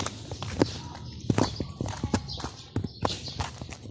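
Horse hooves clip-clopping at a steady walking pace close by, a run of sharp knocks over a rumbling outdoor background, with no voices.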